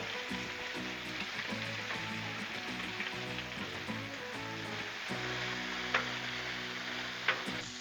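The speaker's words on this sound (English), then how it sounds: "Cooking this bacon first, gonna give a good little bit of grease to cook these taters in." Bacon sizzles on a Blackstone griddle, a dense continuous crackle with a few sharp pops near the end, heard close and with no voices over it.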